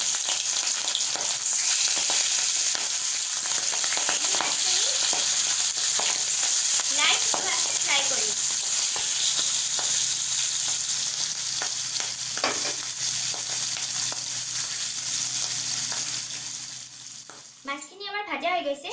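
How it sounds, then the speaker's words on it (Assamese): Fish frying in smoking-hot mustard oil for an Assamese fish dish, a loud continuous sizzle and crackle throughout with occasional stirring scrapes, easing off near the end. "তেলৰ পৰা ধোঁৱা ওলাবলৈ ধৰিছে, গতিকে মাছখিনি আমি ফ্ৰাই কৰি ল'ম।"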